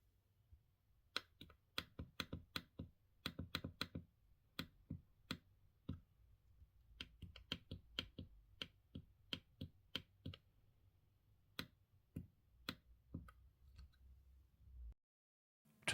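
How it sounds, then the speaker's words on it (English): Crisp, sharp clicks from the push buttons on a Zen's Simwheels UNIFLEX-Elite sim racing wheel, pressed one after another in irregular bursts, close and distinct against near silence. "The buttons make also a very nice and audible clicking sound when pressed."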